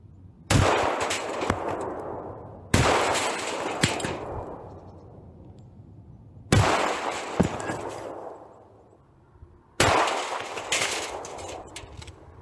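Shotgun firing Score 00 buckshot and slugs at an outdoor test range, four loud separate blasts spaced a few seconds apart, each with a long echoing decay.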